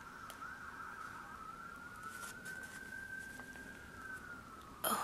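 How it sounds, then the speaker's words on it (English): A faint emergency siren wails steadily from outdoors, heard from inside a room during a bookbinding craft session; the distant rising and falling tone continues throughout, and a short knock sounds near the end. "there's sirens outside."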